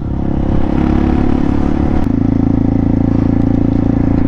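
A Rusi KRY 200 motorcycle fitted with a Norifumi Rocket 4 exhaust runs close by with a steady, throbbing engine rumble that thickens into a louder, even drone midway through, with no talking.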